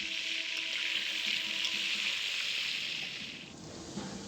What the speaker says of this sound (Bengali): সবার প্রথমে আমরা আলুগুলোকে ডুবো তেলে ভেজে